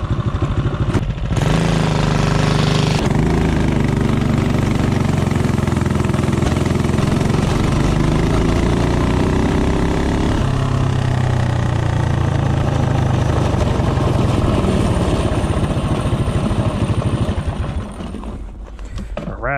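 A CT200U-EX minibike engine fitted with a thick head gasket revs loudly and continuously through a 0 to 30 acceleration run, its pitch climbing, dipping at a shift, then rising again close by.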